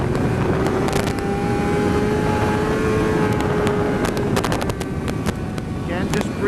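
A motorcycle engine pulls hard under throttle, with a rising tonal whine over heavy wind rush. The sound is loud and continuous, recorded close on the bike.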